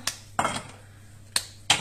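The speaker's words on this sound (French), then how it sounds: "je casse mon chocolat" A chocolate bar is snapped by hand in a home kitchen, four sharp crisp cracks spaced unevenly, close and clear, with no talk.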